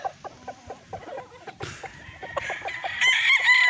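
A Raptor sweater gamefowl rooster, offspring of a four-year-old Larry Romero sweater, clucks in a quick series of short, close calls, ending in a brief strained, rising crowing note, with light farmyard background.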